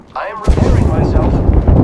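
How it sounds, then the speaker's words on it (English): Airstrike explosions in a video game: a loud, close blast erupts and rolls on into a heavy rumbling boom, preceded by a brief higher whistling tone. "We've got an airstrike coming in."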